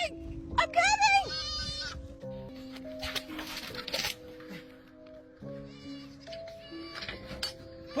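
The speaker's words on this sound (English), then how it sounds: "Put the goat down." A goat bleats in a couple of short wavering cries near the start, followed by shuffling and rustling handling noises with a low background hum.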